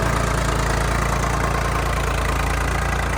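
A tractor engine idles steadily nearby, a low rhythmic chugging that holds constant with no voices.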